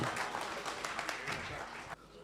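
Audience applause greeting a poet at an Urdu mushaira in Bhopal, a dense wash of clapping that holds steady for about two seconds, then drops away abruptly.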